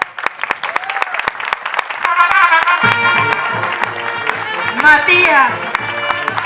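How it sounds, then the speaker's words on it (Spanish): An audience gives sustained applause for a Paraguayan folk dance group at a community celebration, dense clapping running under a nearby announcer who names performers, with music rising partway through. "un fuerte aplauso para cada uno de los bailarines"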